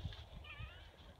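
A domestic cat gives faint, short meows at feeding time among farm animals, quiet and somewhat distant against a low rumble of background noise.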